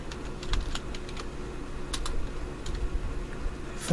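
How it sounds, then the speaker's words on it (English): Keystrokes on a computer keyboard as a command is typed in to install the Angular CLI through npm, a steady run of light clicks close by with short pauses and no talking. "To install Angular CLI, just type npm install"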